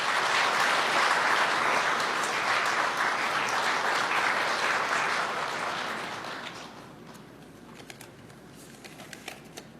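A crowd at a Labor Day ceremony applauds for a speaker from the Korean labor federation. The clapping is loud and sustained at first, then fades after about six seconds, leaving scattered faint claps and quiet room tone.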